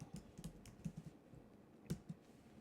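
Someone types on a computer keyboard with a quiet, close, uneven patter of soft key taps.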